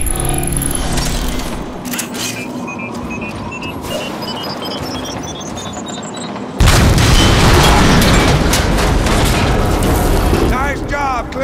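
A detonation pack planted on a bomb in Transformers: Fall of Cybertron goes off in one heavy, sudden boom, followed by a sustained loud rumble. Game ambience and a rising electronic tone play just before the blast.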